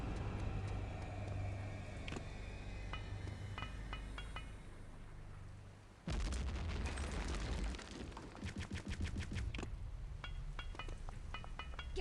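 Grenades go off in Return to Castle Wolfenstein, with rumbling game noise and a sudden loud burst about halfway, followed by sharp crackling pops and rattling bangs.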